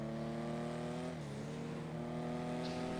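JB 700W car engine in GTA 5 Online, a steady throaty idle and rev with a brief pitch dip then rising again, continuous and close, no talking.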